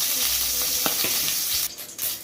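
Mustard seeds sizzle in five or six spoons of hot coconut oil, a dense, steady frying hiss with small crackles and a few light stirring clinks close by.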